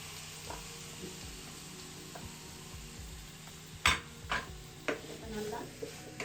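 Marinated chicken frying in butter in a pan for butter chicken, a quiet steady sizzle with a few sharp clinks and scrapes of a utensil against the pan.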